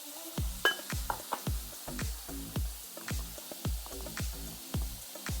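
Radish greens cook in a pan while a utensil stirs them in quick, repeated scraping strokes, with a soft sizzle underneath. The sound is close and there is no talking.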